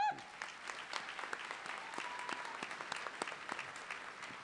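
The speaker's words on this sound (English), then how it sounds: "Let's give him a round of applause." At a college commencement ceremony, scattered audience applause rings out fairly faint and distant, individual claps standing out in an uneven patter.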